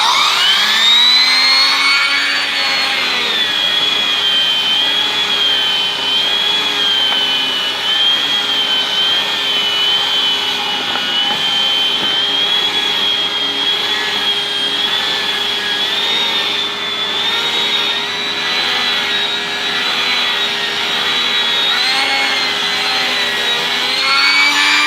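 A yellow Numatic Henry vacuum cleaner with a turbo brush runs loud and steady, its motor whine holding an even pitch with slight wavering as the head moves, no voices over it.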